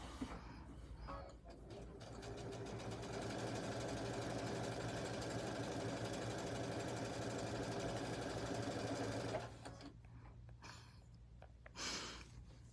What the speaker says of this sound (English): I'm going to sew down one of the long sides